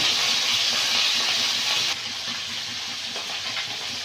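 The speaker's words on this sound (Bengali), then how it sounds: "এবারে মাছের মাথাগুলো ভেজে নেব।" Fish heads sizzle in hot oil in a village kitchen, a steady, close broadband hiss of frying that drops slightly in level partway through and carries on without talk.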